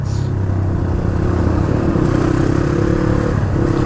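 A Suzuki RM dirt bike engine revs hard on an off-road trail, giving a loud, sustained, gritty drone that holds steady throughout with slight rises in pitch.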